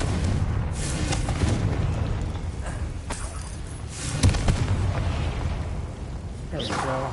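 Spell explosions from Confringo being cast in the video game Hogwarts Legacy, a few dull booms and bursts amid continuous game ambience, one sharper blast standing out near the middle.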